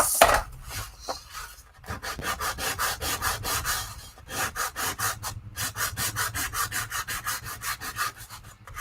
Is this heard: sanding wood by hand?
yes